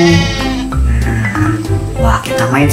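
A goat bleats in long wavering cries, loud and close, repeating several times, while a person talks over and between the calls.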